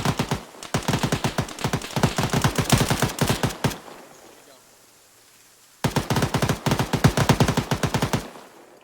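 Two sustained bursts of full-auto machine gun fire in the military shooter Arma 3, loud and rapid, separated by a few seconds of quieter ambient sound.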